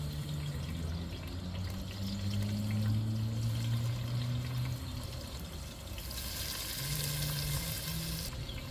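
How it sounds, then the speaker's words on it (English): Chopped onions brown in hot oil in a cooking pan for fish curry, giving a continuous, even sizzle with faint low hum, the hiss turning brighter and louder near the end. "I'm just going to brown these onions"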